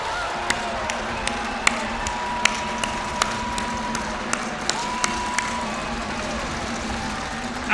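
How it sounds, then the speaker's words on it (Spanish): A crowd at an outdoor political rally in Camargo, Chihuahua applauds, a sustained wash of clapping held at moderate level with scattered sharp clicks and no talk over it. "Un aplauso para Javier Corral."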